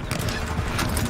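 A horse in Far Cry 6 trots with a close run of clip-clop hoofbeats, and a neigh or whinny rises over the hooves.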